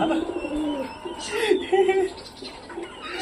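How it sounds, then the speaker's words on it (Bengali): A Madras pigeon gives a short, soft cooing burst close by, heard against a person talking throughout. "নতুন পায়রা চলে এসেছে এটা একটা ম্যাড্রাস পায়রা"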